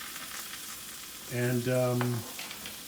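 About twelve ounces of white mushrooms hit a hot pan and sizzle, a soft, steady frying hiss under a brief spoken word, with a short tonal clatter from the cookware near the middle.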